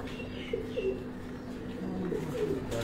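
Soft coos from racing pigeons at a pigeon sports festival in Gujrat district rise briefly a few times over a quiet, murmuring background, fairly faint and close.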